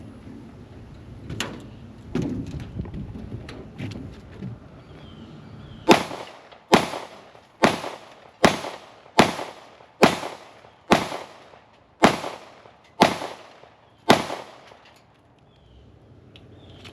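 Ten evenly spaced gunshots ring out one after another as a 10-round magazine is emptied outdoors, each a loud sharp crack with a short decaying echo, followed by quiet.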